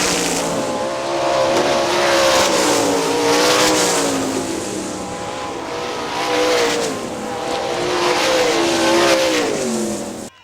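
410 sprint cars roar down the back straightaway at Hartford Speedway Park, Michigan, a loud, sustained engine howl rising and falling in pitch as the cars pass close by.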